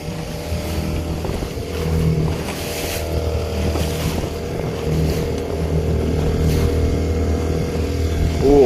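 A motorboat engine drones steadily for the whole stretch, a close, continuous hum with some wind noise over it and no voices.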